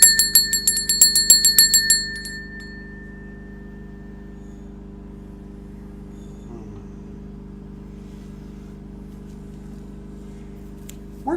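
A single meditation bell is struck in a quiet room, a quick cluster of bright strikes at the start ringing into a long, soft, sustained hum that slowly fades.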